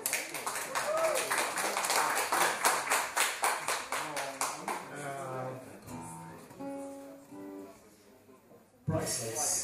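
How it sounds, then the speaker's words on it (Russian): A small audience claps in quick bursts for several seconds, then the clapping fades and a voice speaks, followed by a sudden louder sound at the end. "эти аплодисменты для тебя"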